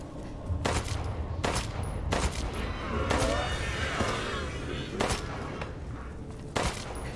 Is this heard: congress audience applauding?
no